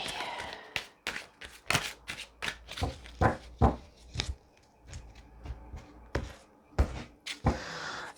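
Tarot cards being handled up close: a run of crisp slaps, flicks and riffles at an uneven pace, with no one speaking.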